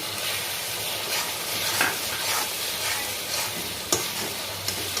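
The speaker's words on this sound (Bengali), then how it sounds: "টমেটো পিউরিটা দিচ্ছি" Tomato puree goes into a hot pan of frying soybean kofta, giving a steady close sizzle with faint scraping and a few soft clinks of a spatula, no voices.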